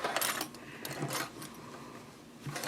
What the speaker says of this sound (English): I'm going to sew up this side of the point